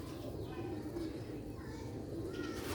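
A pair of pigeons coos softly and continuously against a low background murmur.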